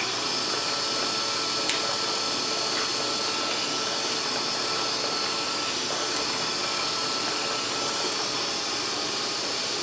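A VakRapid 2.5 horizontal band sealer runs its conveyor while sealing bags, giving a steady, continuous mechanical whir and hiss at moderate level, with faint occasional clicks and no talk.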